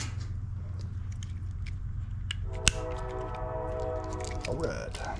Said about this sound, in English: I hear the train again.